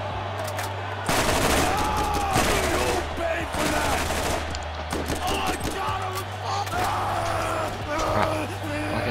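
Rapid gunfire bursts from the video game Borderlands, a dense fusillade of repeated shots running through most of the stretch alongside steady game ambience, with no voices.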